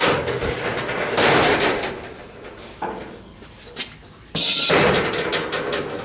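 A Volkswagen car door shuts with a sharp, loud slam near the end, after a couple of smaller clunks and handling noises in a garage-like space.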